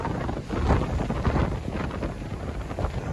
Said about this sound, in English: This is where the wind will really kick in.